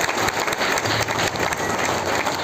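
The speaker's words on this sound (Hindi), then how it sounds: "आशीष जी के लिए एक बार बहुत ही अच्छी तालियां चाहूँगा" Applause from an audience at a sales meeting in Gurgaon, dense hand-clapping at a steady moderate loudness lasting the whole moment, with no voice heard over it.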